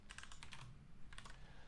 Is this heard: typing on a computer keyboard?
yes